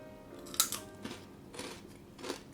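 Crispy fried long beans crunch between the teeth in several close, sharp bites and chews, spaced irregularly and fairly quiet, with no talking.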